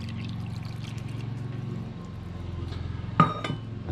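A cup of water is poured into a spicy Sri Lankan tomato curry with coconut cream, a soft steady trickle with a faint bubbling pulse, then a sharp clink of a cup against the pot near the end.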